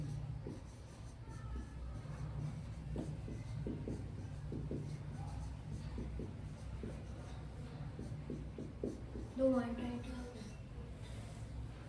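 Marker or chalk tapping and scraping on a classroom board in a scattered run of short strokes, faint under a steady background hum, with a brief voice near the end.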